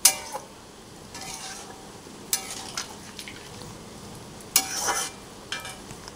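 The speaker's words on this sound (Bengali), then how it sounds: "বেশ খানিকটাই জল দিয়ে দিলাম আমি।" Water splashes into a pan of frying spiced curry. The pour brings soft hissing sizzle and bubbling, with a few sharp metallic clinks of utensil against pan, close and moderately quiet, with no talking.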